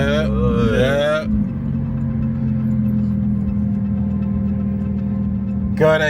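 A Porsche 911 with an Alibaba aftermarket exhaust runs close by, blipping at the start and end around a steady rumbling hold, while voices talk over the engine.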